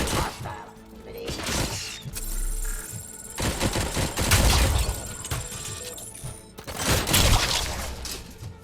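Gunfire from a sniper and other weapons in the video game Robocop: Rogue City, with loud repeated bursts and shots, shattering and crashing impacts, coming in several heavy waves.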